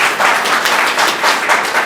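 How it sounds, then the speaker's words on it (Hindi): A crowd at a celebration event in Amarkantak bursts into loud, dense applause, a steady wash of many hands clapping close by with no talk over it. "एक बार जोरदार ताली।"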